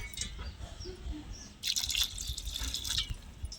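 Water poured into a bowl while preparing a dough-like mixture of crushed tubers in a home kitchen, a light trickling and dripping that swells into a steadier, brighter pour partway through, close and fairly quiet.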